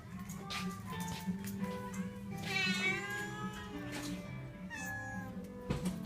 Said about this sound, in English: That cat's creepy as fuck.